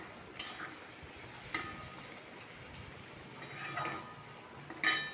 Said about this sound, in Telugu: చూడండి వేగుతున్నది.